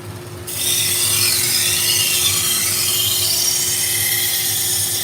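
A knife is ground on an old, worn belt grinder, starting abruptly into a loud continuous rasping whir with a steady hum underneath that holds evenly to the end, no voices.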